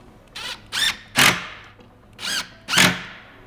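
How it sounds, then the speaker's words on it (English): An impact driver drives screws through a cabinet back panel into pre-drilled holes in the base, giving five short, sharp, rattling bursts close to the microphone, each quickly cut off. "when you're using an impact driver, it'll just keep going"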